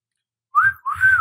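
A person whistles two short rising-and-falling notes, close and clear, with a brief gap between them and a low breathy hum beneath, alone without talk.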